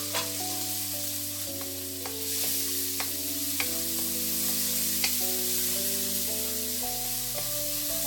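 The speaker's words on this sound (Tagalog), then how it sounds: "Sunod natin yung ating onion." Onion frying with garlic in a pan for beef caldereta, a steady close sizzle broken by repeated scraping and stirring taps from a utensil, with no voices.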